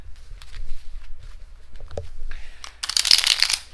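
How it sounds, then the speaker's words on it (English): A deck of cards shuffled three quick times for a Zombicide Black Plague board game, with soft riffling ticks that end in a loud, bright burst of fluttering cards, close and clear. "I'm going to do just 3 quick shuffles"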